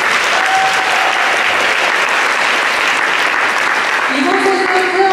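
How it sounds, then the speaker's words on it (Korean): Audience applause fills a church Korean-language school's spring semester recital, a steady, loud wash of clapping throughout with talk faintly underneath. "박수 부탁드립니다"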